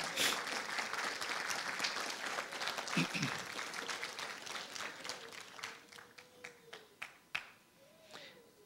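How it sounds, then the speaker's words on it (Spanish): A church congregation applauds during a Spanish-language Christian sermon, dense clapping that thins into scattered separate claps toward the end, with speech running over it. "Dele fuerte ese aplauso al Señor"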